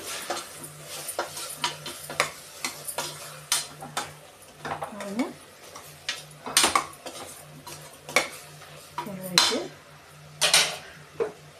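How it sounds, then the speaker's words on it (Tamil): A spoon stirs radish pieces in a metal cooking pot, scraping and clinking against the sides in an uneven rhythm of close, fairly loud strokes over a faint steady hum, with no talking. "அதையும் போட்டுட்டு நல்லா கிளறிட்டு"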